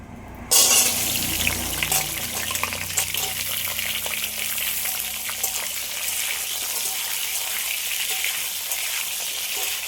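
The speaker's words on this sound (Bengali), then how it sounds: "তেলটা আগে একটু গরম করে নিই লবণ হলুদ মাখিয়ে রাখা পুঁই আর আলুটা ভেজে নেব" Malabar spinach and potato pieces, coated in salt and turmeric, fry in hot mustard oil with a sudden loud sizzle as they hit the pan, then settle into a steady, close crackling hiss.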